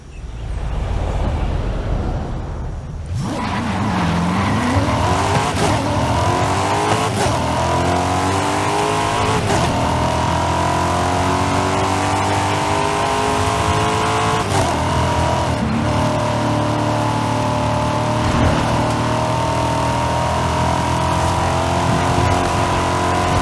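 Race car engine in Forza Horizon 5 starts up, then revs and climbs through the gears in repeated rising sweeps, loud and close, with brief shifts and a sustained high-pitched drone throughout.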